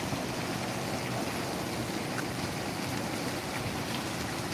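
Water pouring over rock in a small waterfall surrounded by greenery, a steady broadband rush that stays dense and unbroken throughout, close and moderately loud.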